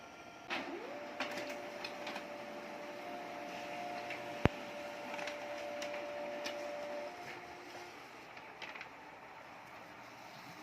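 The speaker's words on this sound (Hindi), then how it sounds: "अब देखते हैं इसका प्रिंट सेम टू सेम निकलता है या नहीं।" An HP MFP 1200a laser printer runs off a page: a steady mechanical whir and hum with a sustained tone, soft clicks and one sharp snap partway through, easing off toward the end.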